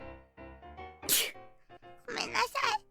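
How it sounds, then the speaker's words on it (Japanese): A person sneezes loudly and close, one burst after another in quick succession, preceded by a short vocal sound. "メロンパンの話で興奮しすぎてくしゃみ出た。"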